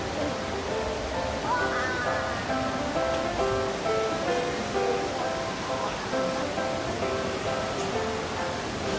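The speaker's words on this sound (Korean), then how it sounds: "여기는 아까 보던 있었던 폭포 있죠? 그거를 가까이 볼 수 있는 곳이에요." A large waterfall at Gardens by the Bay in Singapore roars as a steady, loud, broad wash of falling water, continuous and close, with faint tonal background sounds and no clear speech.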